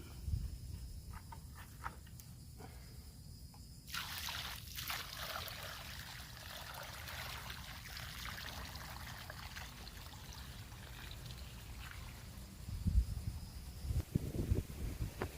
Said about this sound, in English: we got to water it. Might as well use some good water from our fish pond